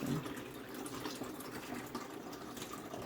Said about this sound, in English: we're just gonna give it a last strain